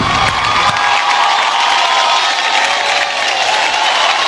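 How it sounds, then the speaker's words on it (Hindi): Loud, dense crowd cheering and applause at an awards show ceremony, a continuous roar of clapping and whoops filling the hall without a break. "इस टीम के लिए जोरदार तालियां होनी चाहिए।"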